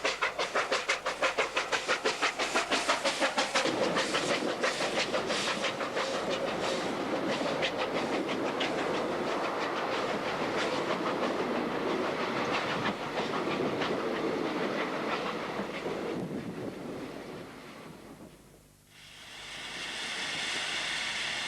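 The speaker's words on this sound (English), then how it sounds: "here we see the Red Devil entering the single line section on its northbound journey to the R, whilst making a spectacular scene as it steams into the rising sun" The modified steam locomotive Red Devil passes on a single line section heading north at sunrise, its rhythmic chuffing and rail clatter loud and close at first, then fading as the train draws away.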